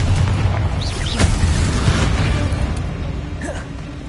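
The Incendio fire spell in Hogwarts Legacy lets out a loud, rumbling whoosh of flame with a few bursting pops, and the fiery roar continues steadily across the clip.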